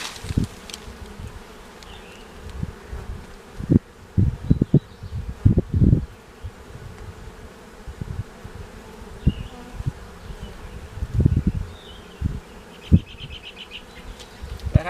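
Honeybees buzz densely and continuously during a hive cutout inside a church, with close, irregular bumps and handling knocks from a hive tool breaking into the steady swarm drone.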